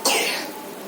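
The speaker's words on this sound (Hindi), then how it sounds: "खांसी तो ऑलरेडी है इनको।" A single short cough from a sick child, one of twins at home, bursting out close and clear and then fading away with no talk around it.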